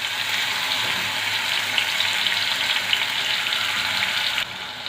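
Boal fish pieces coated in masala fry in hot oil over a low flame, giving a dense, continuous close sizzle that briefly eases near the end, with no talking.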